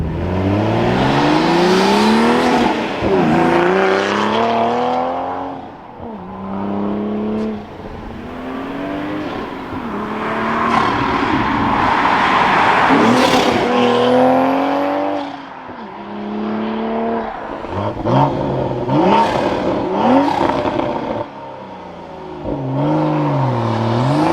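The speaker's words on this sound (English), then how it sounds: "So we're gonna throw a mic outside the car now, do a flyby" Toyota Supra with a manual gearbox and a high-flow catted downpipe, making repeated loud revving passes heard from outside the car, the exhaust note rising and falling through gear changes as it approaches and pulls away.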